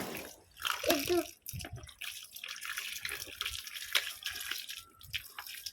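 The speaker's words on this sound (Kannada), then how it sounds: "ತೊಳಿ, ಬ್ರಷ್ ತೊಳಿ, ನೀರು ಇತ್ತೀನಿ." A paint brush being rinsed in water, with soft splashing, sloshing and dripping at close range, moderately quiet and uneven throughout.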